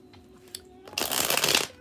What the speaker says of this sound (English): So let me go ahead and shuffle these cards.